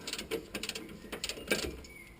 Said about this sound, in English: tightening everything up to the right torque now